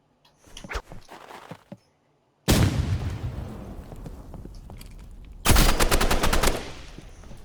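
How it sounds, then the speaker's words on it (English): Assault rifle fire in the video game Rivals, a few sharp shots first, then two loud sustained bursts of rapid automatic gunfire close up, separated by a quieter stretch; no speech. "that's where the assault rifle is broken"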